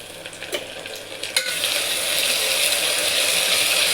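Sliced onion with garlic-ginger paste sautéing in a pot, a few stirring clacks at first, then a steady loud sizzle and hiss building and holding to the end, no voices.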